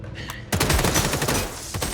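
Loud bursts of rapid film gunfire, firecrackers and explosive cracks start abruptly after a brief quiet lead-in, continuing densely with layered shots and rumble.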